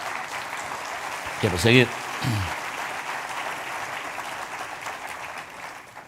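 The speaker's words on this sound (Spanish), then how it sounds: "Démosle un aplauso al Señor." Sustained church congregation applause fills the whole stretch, with a short spoken Spanish phrase from one voice rising above it early on.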